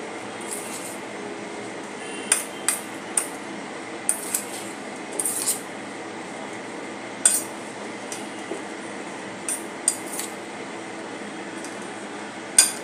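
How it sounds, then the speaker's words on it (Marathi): A spoon mixes ingredients in a dish for a healthy breakfast, giving a run of light metallic clinks and scrapes, some sharper taps standing out against a steady low background hum, with no talking. "आणि मिक्स करून घेऊया। अशा प्रकारे आपण मिक्स करतोय।"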